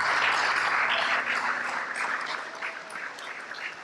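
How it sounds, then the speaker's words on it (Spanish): A church congregation applauds its servants in a dense, steady patter of many hands that fades slightly toward the end, with no talking over it. "Démosle un aplauso a los servidores, sí, por su servicio."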